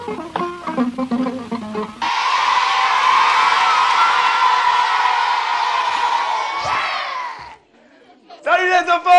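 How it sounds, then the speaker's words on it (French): A crowd of children at a show claps and cheers loudly for an entertainer, a sustained roar of applause and shouts lasting several seconds, with voices talking before and after. "on applaudit très très fort pour Tonton Chibo"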